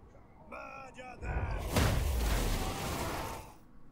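An explosion spell from the Total War: Warhammer video game bursts among Chaos Marauder units, heard as a loud, roaring blast that swells and trails off, with shouting voices just before it.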